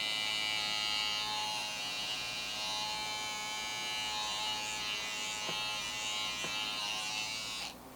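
Andis Slimline Pro Li cordless hair trimmer running with a constant bright electric whine, a couple of faint clicks near the middle, then cutting off abruptly at the end.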